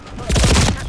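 Burst of gunfire from sniper rifle and pistol in Call of Duty Black Ops multiplayer, a rapid cluster of loud overlapping shots lasting under a second.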